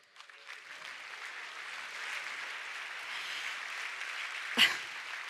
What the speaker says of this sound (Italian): Accogliamo con un grandissimo applauso Giovanni Fantuzzi